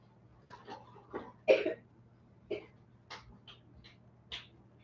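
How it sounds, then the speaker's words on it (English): A person coughs in a series of short, harsh bursts at close range, several separate hacks and throat-clearing sounds spaced irregularly over a quiet electrical hum. "Bad cough."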